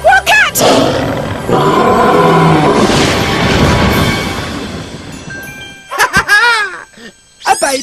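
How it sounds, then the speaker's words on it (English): A cartoon baby tiger lets out a loud, long roar amid tinkling, jingling effects, followed by short excited vocal bursts. "A baby tiger!"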